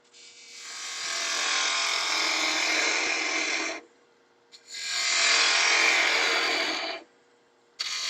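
A lathe turns a mahogany potpourri bowl as a bowl gouge cuts and catches, giving two long rasping, scraping passes of several seconds each separated by a short quiet gap, close and fairly loud with no voices.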